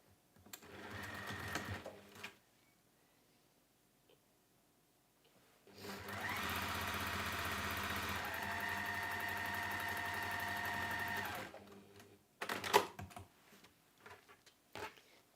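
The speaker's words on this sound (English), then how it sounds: "I will sew along the other side there" Sewing machine stitching the side seam of a fabric octopus pouch, with a short burst, a pause, then a long steady run of rapid needle chatter before stopping, followed by brief handling clicks.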